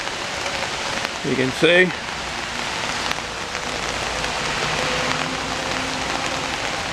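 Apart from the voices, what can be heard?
rain falling on puddles in New England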